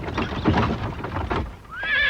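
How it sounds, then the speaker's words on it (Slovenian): Cartoon horses clip-clop and then let out a loud, high whinny near the end, the hoofbeats and neigh close and clear. "Zaustavite konje!"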